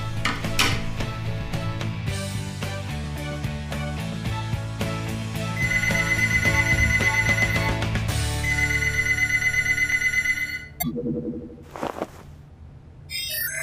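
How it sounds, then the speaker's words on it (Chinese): A phone rings through a voice-assistant call in a sci-fi drama, a loud repeating electronic ringtone in regular bursts over soft background music, then breaking off as a voice answers. "360手机助手，打给长安"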